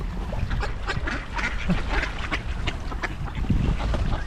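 Ducks quacking on open, very cold water in Tomsk, Siberia, amid gusty wind buffeting the microphone, with splashy ambience and no speech.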